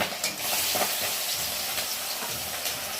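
Pabda fish frying in hot oil gives a steady, dense sizzle with crackling pops that stays loud and close for the whole stretch, with no talking.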